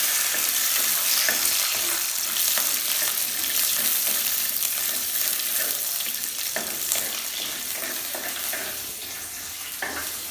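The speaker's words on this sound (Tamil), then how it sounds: "அடுத்தது வெட்டி வச்ச சின்ன வெங்காயம் தான் சேர்க்கணும், பெரிய வெங்காயம் சேர்க்கக்கூடாது. அதை போடணும்." Chopped small onions (shallots) sizzle in a hot pan in a tiny kitchen, a loud continuous frying hiss with occasional stirring scrapes.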